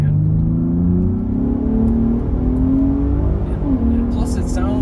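A 2023 Ford F150 Raptor in Baja exhaust mode accelerating, a loud, deep exhaust drone rising in pitch through gear changes, with no one speaking.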